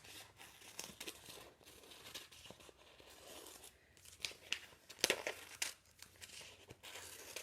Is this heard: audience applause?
no